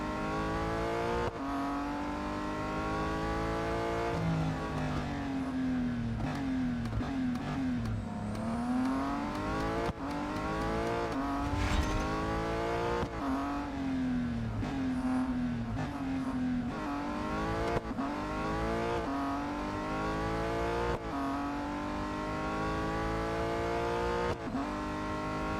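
Race car engines in the Real Racing 3 video game, revving up and down through repeated gear shifts and accelerations, loud and continuous over the whole stretch.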